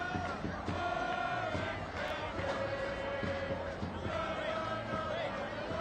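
A large crowd at an Orange County SC soccer match on a Saturday evening, a steady roar of voices and shouts with a commentator talking over it.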